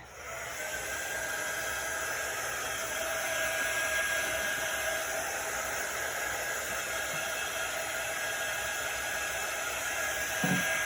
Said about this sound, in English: So we're going to use our quick dry tool.